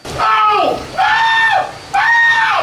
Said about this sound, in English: The screaming stops when he moves to a new cell